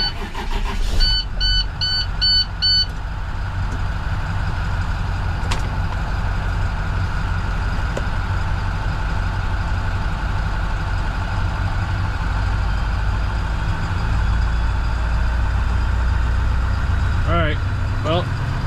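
A truck's engine runs at a steady idle with a deep, continuous rumble. Electronic beeps sound near the start and squeaky tones near the end, and the engine drones on the whole time.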